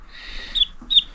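A young Rhode Island Red chick on a farm gives two high, thin cheeps a moment apart, close by and clear over a quiet background.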